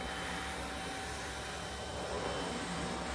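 HAUSHOF 24V cordless 2.5-gallon wet/dry vacuum cleaner running, a steady, fairly quiet broadband whoosh with a faint motor whine, continuous and unbroken.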